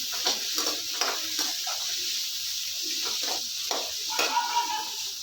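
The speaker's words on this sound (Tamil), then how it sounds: "இதோட ஒரே ஒரு தக்காளியும் சேர்த்துக்கலாம் தக்காளி நல்லா கொஞ்சம் வதங்கட்டும்" A tomato sautéing in a hot pan with oil for black sesame chutney, a constant sizzle and hiss broken by repeated scraping stirs, close and fairly loud.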